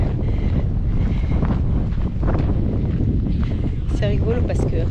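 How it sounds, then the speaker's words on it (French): Steady gusty sea wind buffeting the microphone outdoors during a hot Fuerteventura desert half marathon, a continuous low rumble throughout with a voice talking over it. "Pareil avec ce petit vent là de mer, ça fait du bien."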